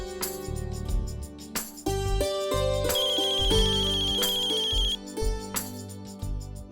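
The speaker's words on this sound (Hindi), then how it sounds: "पापा बानी दी का फोन है।" An electronic phone ringtone plays a bright, repeating melody of synthesized notes, clear and close, with no voices.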